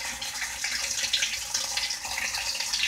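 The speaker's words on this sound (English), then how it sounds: "the cold water valve is good because we can hear it" Cold water rushing through the inlet valve of a Whirlpool washer as it fills, a steady, fairly loud broadband hiss of running water that continues without a break, with no voices.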